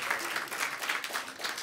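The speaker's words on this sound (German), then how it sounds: "Macht mal Applaus, wenn ihr schon mal an einem Mittelalterfest wart." A studio audience at a German late-night comedy show claps briefly, a short burst of moderate applause that stays even throughout.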